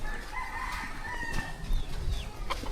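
Village chickens cluck softly nearby while a rooster crows several times over a light outdoor background, with no talking.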